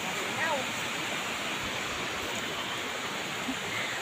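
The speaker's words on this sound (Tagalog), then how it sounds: "Yan ang San Catherine Falls." St. Catherine Falls in Basag, T'boli, South Cotabato, gives a steady, dense roar of falling water that holds at an even level throughout, with faint traces of a voice far under the noise.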